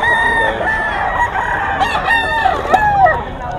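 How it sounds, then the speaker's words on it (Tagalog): Roosters and bullstag fighting cocks at a gamefowl farm in Bocaue, Bulacan crow repeatedly and cluck, several birds overlapping loud and close throughout. "Mga manok dito sa Bocaue"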